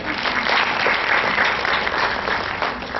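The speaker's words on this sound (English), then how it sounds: "You can applaud yourselves" Students applauding at a school debate on women's participation in working life, loud dense clapping from a seated group, sustained and even, slightly muffled and band-limited.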